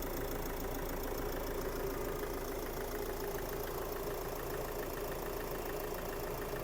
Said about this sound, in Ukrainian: Двигунчик сухий, працює ідеально. Дуже класно працює цей двигун.